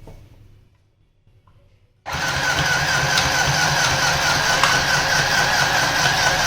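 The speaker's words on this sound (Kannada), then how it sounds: "ಸೊ ನಾನು ಬಟನ್ನ ಯೂಸ್ ಮಾಡಿ ನಿಮಗೆ ಒಂದು ಸಲ ಸ್ಟಿಚ್ ತೋರಿಸ್ತೀನಿ." A semi-automatic stitching machine switched on with its button: after near silence, a steady motor whir starts abruptly and keeps running evenly, close by, with no talking.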